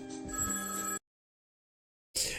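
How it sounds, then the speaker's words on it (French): Telephones ring in the NES James Bond Junior video game, a bright electronic trill sounding alone for about a second, breaking off into silence, then starting again. "Les téléphones sonnent."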